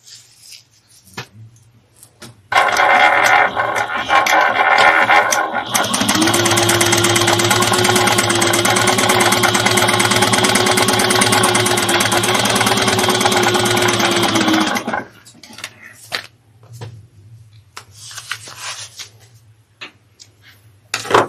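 A sewing machine runs a steady, continuous whirring stitch for about twelve seconds along a bag seam at a one-eighth-inch allowance, starting and stopping abruptly amid quiet room sound.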